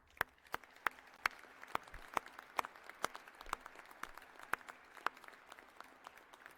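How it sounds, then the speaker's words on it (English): Faint, scattered clapping rises from a crowd at a university midyear commencement ceremony, with individual claps spaced out, heard from a distance in a large hall. "Please join me in the applause to celebrate their commitment and their contribution to your success"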